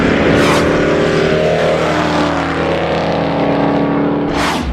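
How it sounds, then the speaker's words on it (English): A 1970 Mercury Cyclone GT with a 429 Super Cobra Jet V8 and four-speed drag pack runs loud and close, a deep continuous rumble with two brief sharp swells and no talking. "it's a 1970 Mercury Cyclone GT with the 429 Super Cobra Jet engine and the 4-speed drag pack option"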